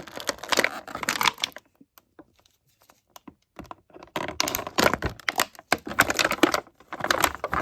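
Packaging on a Mattel WWE Legends Ravishing Rick Rude action figure being ripped open, close and crackly, in bursts of tearing and crinkling plastic and cardboard with a short quiet gap between them.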